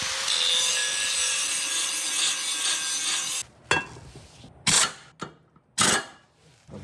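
A lawn mower blade being sharpened, with a steady, loud grinding rasp for about three and a half seconds, then several short separate bursts of the same scraping against quieter pauses.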